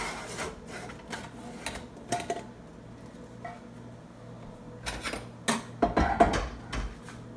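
A pressure cooker holding freshly cooked prawn biryani is opened in a home kitchen, giving scattered metallic clanks, lid scrapes and rattles in short bursts against a quiet background.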